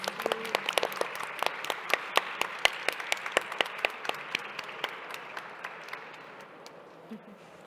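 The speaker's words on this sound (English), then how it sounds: "We could give them a round of applause" An audience claps for the speakers in sustained applause. Individual sharp claps stand out over a broad wash that slowly thins toward the end.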